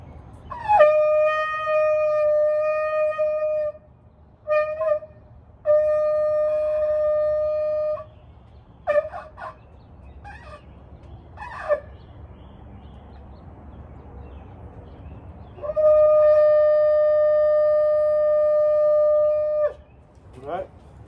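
A ram's horn shofar blown in a series of blasts: several long held tones broken by short choppy bursts, ending with a final long sustained call, over a faint background hiss.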